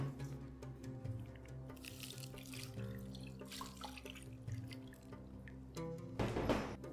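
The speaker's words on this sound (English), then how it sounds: "we're going to wash them a second time after we cut them" Freshly cut vegetables for a Moroccan vegetable tagine being rinsed in a sink, with running tap water, splashing and dripping close by, and a louder gush of water near the end; no talking.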